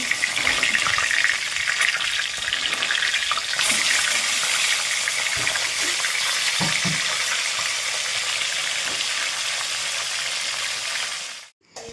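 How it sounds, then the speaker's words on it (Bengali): Rohu fish fries in a pan with a steady, dense sizzle, broken by a few scraping knocks as it is turned. The sound is close and continuous and cuts off abruptly at the end. "এবার আমি মাছটাকে উল্টো পাল্টে ভেজে নেব"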